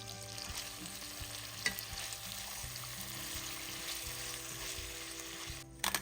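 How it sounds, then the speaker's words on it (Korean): Rice cakes and fish cakes stir-fry in a pan, giving a continuous soft sizzle with scraping and stirring clatter of a utensil, a couple of sharper knocks near the end. "떡과 어묵 넣고 잘 볶다가 치킨 스톡으로 간을 해주고"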